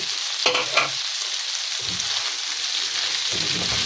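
Chopped bitter gourd drops into a hot pan for ampalaya con carne with eggs. Two quick clattering hits are followed by a steady sizzle and intermittent scraping as the pieces are moved around.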